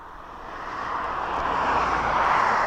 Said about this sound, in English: And lined up on the end of the runway, we have another aircraft just waiting for you